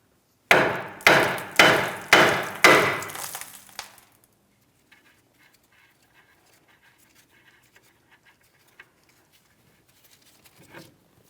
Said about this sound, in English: We're tapping directly on the knuckle here.